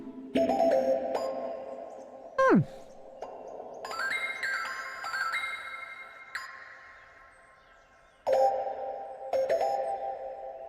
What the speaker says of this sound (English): Retro bells?